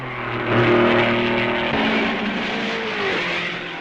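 1955 Formula 1 race car passing at Malmedy during the Belgian Grand Prix at Francorchamps, a loud engine howl that swells and then drops in pitch as it goes by, with a second engine note trailing after.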